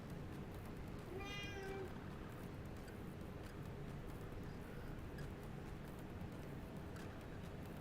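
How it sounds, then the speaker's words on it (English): A cat gives a single drawn-out meow early on, faint against a steady background hiss, and then only the noise continues. "My cat just woke up and started meowing."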